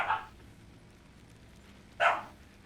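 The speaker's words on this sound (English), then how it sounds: "Now they're just barking at each other because they can." Creatures in the video game Satisfactory give two short, sharp barks about two seconds apart. The barks are fairly close and clear against a quiet background.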